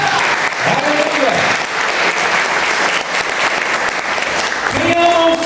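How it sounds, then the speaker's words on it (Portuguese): Church congregation applauding during an evening thanksgiving service, steady dense clapping filling the room for several seconds, with a voice speaking briefly at the start and end. "Aplauda o Senhor nessa noite"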